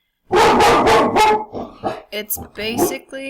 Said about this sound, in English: Sorry about that dog in the background.